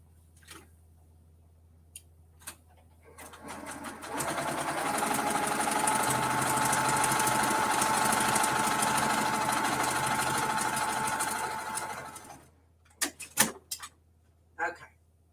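A sewing machine stitching seams runs in one continuous, steady whir of about eight seconds, near and fairly loud, with quiet handling clicks and a few sharp taps before and after.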